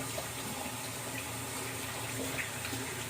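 A tap runs steadily and softly into a sink as someone washes their hands. The hiss of the flow continues unbroken, with no talk.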